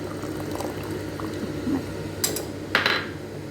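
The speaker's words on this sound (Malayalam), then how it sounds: "ഒരു നെല്ലിക്ക വലുപ്പത്തിൽ പിഴിഞ്ഞ് വെച്ചിട്ടുള്ള പുളിയാണ് കേട്ടോ അത് ഒഴിച്ച് കൊടുക്കുക" Tamarind water pours into a simmering prawn curry, a soft bubbling simmer throughout broken by a couple of brief splashy pours near the end, close and fairly quiet.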